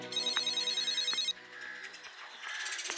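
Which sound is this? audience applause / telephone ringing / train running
telephone ringing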